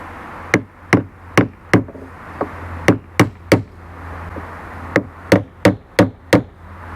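Wooden bungs tapped into a boat's stern toerail: eleven sharp, close knocks in uneven bursts of three or four, each crisp and loud against a quiet workshop hum.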